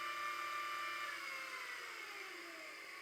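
A T64S coffee grinder runs at 2000 RPM, producing a steady, fairly quiet high whine with tonal motor hum that drifts slightly downward in pitch, continuous and close for the whole stretch, with no speech.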